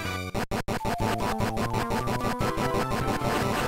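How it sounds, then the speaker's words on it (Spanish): A chiptune explosion effect from the Game Boy Advance version of Sonic the Hedgehog Genesis, a fast run of harsh, buzzy noise bursts repeating over loud, dense in-game music. "¿Eso fue un ruido de explosión?"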